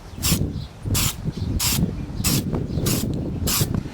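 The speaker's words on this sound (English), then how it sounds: "we're going to slowly dust on the paint and build it up for even coverage." A spray can of Super Cheap Auto filler primer hisses in six short, evenly spaced bursts as it is dusted onto a large 3D-printed model piece, with mechanical clicks of the nozzle between sprays.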